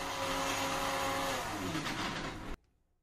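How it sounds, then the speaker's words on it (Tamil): A mixer grinder blends a dry fruit milkshake, giving a loud, steady whirring motor drone with a slight pitch drop before it cuts off abruptly near the end. "இதை அப்படியே அடுத்த ஒரு 2 நிமிஷத்துக்கு சாதாரண மிக்சியிலேயே நல்லா பீட் பண்ணிக்கலாங்க"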